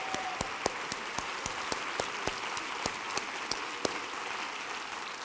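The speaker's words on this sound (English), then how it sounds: "So just really give them another round of applause" An audience applauds taiko drummers at a conference opening session, a continuous hiss of clapping under a regular pattern of sharp, evenly spaced beats.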